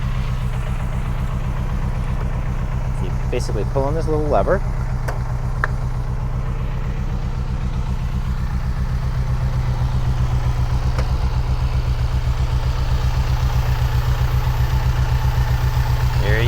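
A 1986 Ferrari 328 GTS engine idles with a steady, deep, even rumble throughout, close and loud, while someone talks over it near the start.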